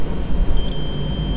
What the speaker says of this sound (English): he's got a display in here also that beeps